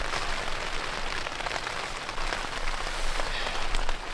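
Rain patters on a backpacking tent in the wilderness of Waterton Lakes National Park, a close, loud, continuous drumming with denser bursts of drops.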